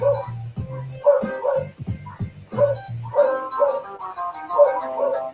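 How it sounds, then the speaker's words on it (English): A dog barks repeatedly in short bursts, fairly close, with some whining yips mixed in and brief pauses between. "Why is my dog barking?"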